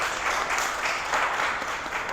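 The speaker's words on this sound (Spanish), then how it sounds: "Vamos a dar un aplauso a Ofelia." An audience applauds steadily after a lecture on the history of navigation and print, a dense even patter of many hands held at a moderate level throughout with no voices.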